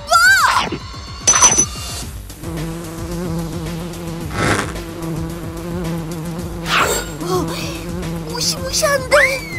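A giant hornet buzzing around a mantis in a cartoon insect battle, a loud whining drone that rises and falls as it circles, with sharp swooping bursts and cartoon effects.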